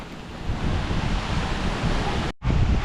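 Strong typhoon wind roars steadily against a house whose sliding door is broken, a loud continuous rush with one brief dropout near the end.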